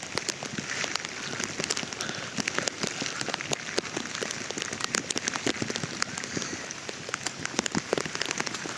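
Rain falls during a monsoon trek from Panhala to Pawankhind, close crisp patter with many distinct drops striking a nearby surface in a constant, uneven rhythm, no voices.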